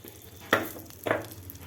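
Two sharp bursts of crackling sizzle as spices hit hot oil for a South Indian tempering, close and loud, followed by a steady softer frying hiss.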